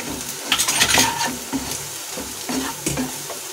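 Spices hit browned fried onions in a pan for dry aloo palak, crackling in a loud close sizzle while a spatula scrapes and stirs in repeated strokes.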